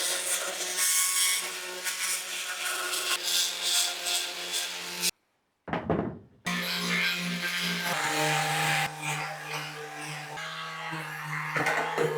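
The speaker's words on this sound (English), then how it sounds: "we need to sand down the chairs" An electric sander scuffs a glossy painted metal patio chair that has a few small rust spots. A steady, close, abrasive buzz with a low hum runs throughout, broken by one brief pause midway.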